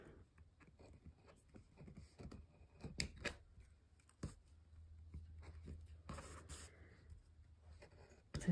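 Small scissors snipping around paper shapes in fussy cutting, with irregular crisp clicks and short cuts close by, some louder snips clustered near the end, and no talking.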